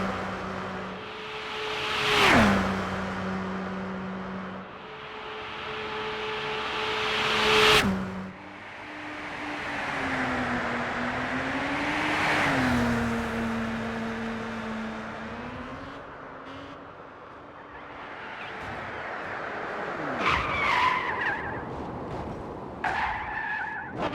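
A Bugatti Veyron 16.4 in Gran Turismo 6 on the Special Stage Route X oval howls with a steady engine tone, broken by two sharp tire-squeal skid bursts early on and scrappy screeching near the end.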